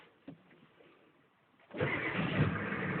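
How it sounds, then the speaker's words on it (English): A Ford F350 diesel pickup with a new starter and a new positive battery cable cranks after its glow plug cycle, then catches about halfway through and settles into a loud, steady rumble after a quiet lead-in. "That's the way this truck is supposed to start."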